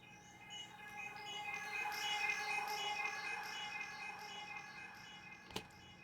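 A synth riser patch whose volume is automated to swell gradually, a faint sustained tonal wash that builds and thins out, heard alone with no talking.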